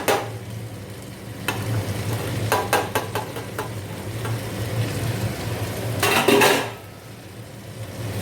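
Rice stirred in a pan with salt and sugar for hilsa pulao: a steady low sizzle runs throughout, broken by sharp clinks and scrapes of the spoon against the pan in several short clusters, with no talking.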